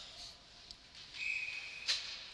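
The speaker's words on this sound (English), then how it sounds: "Whistle blown." A referee's whistle sounds during a 12U girls' youth ice hockey game between the Utica Jr Comets and Rome Grizzlies: a faint, sustained shrill tone followed by a brief sharp blast, distant within the rink's ambient noise.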